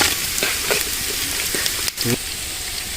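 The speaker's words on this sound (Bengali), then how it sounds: "জিরে দিয়ে দিলাম, তেলে ভাইজে নিব, দিয়ে দিলাম, দারচিনি দিয়ে দিলাম" Cumin seeds and cinnamon fry in hot oil while chicken is cooked with spinach and potato, giving a steady, close sizzle broken by soft scraping as the pan is stirred.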